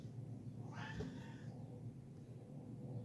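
A pet cat lets out a single faint meow in a quiet apartment, brief and distant against steady low room hum.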